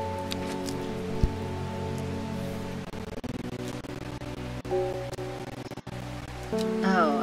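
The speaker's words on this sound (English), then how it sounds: "The soft noise of the rain, watering plants," Soft, steady rain from the video game Strange Horticulture makes a gentle hiss throughout, running beneath calm game music with a few faint clicks and a brief chime near the end.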